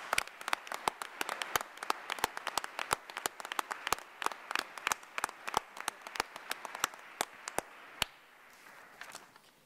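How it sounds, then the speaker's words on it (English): Scattered audience clapping at an arts and humanities awards ceremony, fairly sparse and distinct individual claps in a quiet room that thin out and stop near the end. "Please give these organizations a wholehearted round of applause."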